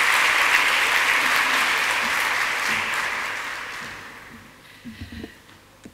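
Audience applause at the opening of a Romanian government internship programme, dense steady clapping that gradually fades out, leaving a few faint thumps and rustles at the end.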